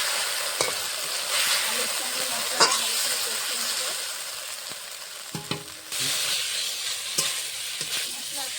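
Potatoes frying in a pan with a ground paste of ginger, cumin, green and dried chilli, a continuous close sizzle broken by several sharp spoon scrapes and knocks against the pan.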